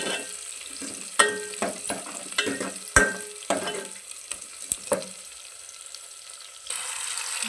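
Green chilies sizzling and frying in a pan for a snake gourd stir-fry, with steady sizzle and a series of spoon stirs and clinks against the pan, close and moderately loud.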